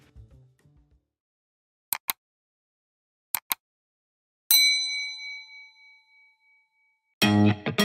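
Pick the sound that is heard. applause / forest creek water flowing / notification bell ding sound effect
notification bell ding sound effect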